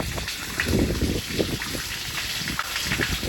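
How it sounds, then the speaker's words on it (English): Water gushes steadily from a leaking spillway pipe at a dam, a constant rushing wash heard from a distance, with no talking. "I can hear water running"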